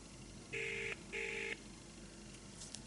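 Two steady electronic dialing tones of about half a second each, separated by a brief gap, as a phone call is placed from a smartwatch, clear over a faint room hiss.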